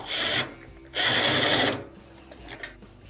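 A ground screw being driven into a washing machine's metal frame during power cord repair, two close bursts of whirring power driver, the second longer, followed by quieter handling clicks.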